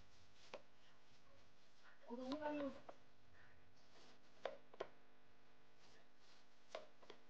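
Knife slicing a pineapple at home for pineapple halwa: several crisp, sharp cuts spaced apart, with a brief burst of busier cutting noise in the middle, close and fairly quiet with no talk.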